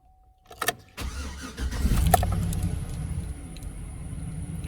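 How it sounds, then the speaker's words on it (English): A truck engine cranks briefly after a short quiet stretch, catches and starts, then settles into a steady, loud idle for the remaining seconds. "And crank it one more time."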